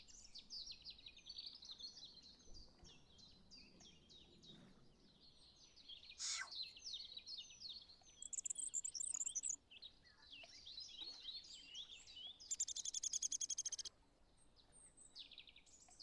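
Cartoonish bird calls from a little penguin in the Wingspan board-style video game: quick high chirps and trills repeating in bursts, with a couple of brighter buzzing flourishes, clear and fairly quiet.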